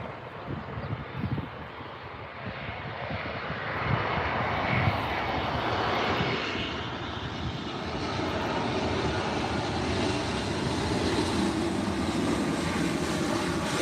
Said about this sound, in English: A321neo, Delta Airlines.